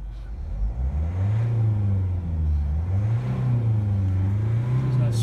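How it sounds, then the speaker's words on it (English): A 2013 Vauxhall Vivaro 2.0L CDTI long-wheelbase diesel van engine revs hard and loud, the pitch rising and falling in repeated waves of revving over a constant drone, with no talk. "There's no smoke, I rev it really hard."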